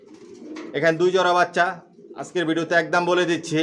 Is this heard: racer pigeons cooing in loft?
yes